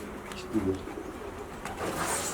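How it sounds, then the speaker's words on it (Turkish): Racing pigeons coo softly nearby as they return during a competition, a few low throaty calls standing out briefly against quiet outdoor background noise. "Evet kuşlarımız şimdi geldi."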